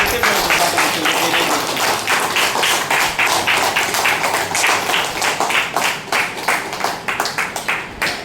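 Sustained applause from a group gathered for a birthday celebration at an ashram, dense rhythmic hand claps close and loud throughout, with a voice faintly underneath.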